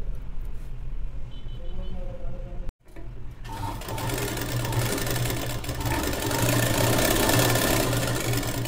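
Sewing machine stitching a girl's long gown runs in a loud, continuous mechanical whir, pausing briefly before starting again and carrying on steadily.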